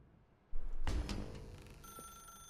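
Telephone ringing in the video game The Stanley Parable: Ultra Deluxe, a loud electronic ring that starts abruptly and sustains with a bright tonal shimmer, clear and close, no voices.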